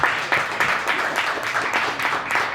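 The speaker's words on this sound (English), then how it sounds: "Please give them another round of applause." An audience at a music industry panel discussion in Buffalo, NY gives a round of applause, a sustained patter of many hands clapping at moderate volume with rhythmic peaks.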